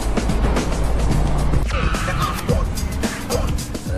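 A car weaves through crowded city streets full of people and traffic in a video game, engine roaring steadily with bursts of tire noise around tight 90-degree corners, while a voice talks over it.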